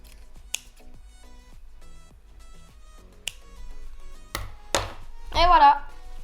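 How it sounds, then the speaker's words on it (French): Scissors snipping small loose threads on a handmade Mother's Day gift, a few sharp isolated clicks and snips spread across a quiet room, ending with a brief rustle and louder handling sounds. "on coupe les petits fils et c'est fini"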